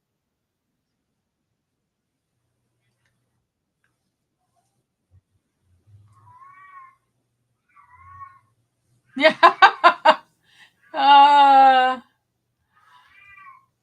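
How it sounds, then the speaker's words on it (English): A cat gives a couple of soft, distant meows before letting out a loud burst of rapid, harsh screaming and then one long, drawn-out wail. A faint meow follows. A person briefly murmurs near the start. "We got a cat screaming."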